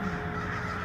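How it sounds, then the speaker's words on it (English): Crows cawing in downtown Sunnyvale, California, a loud, close, harsh call that holds steady through a short moment, alone with no voices. "Crows suddenly bolted out of the sky as they swoop into downtown Sunnyvale, California."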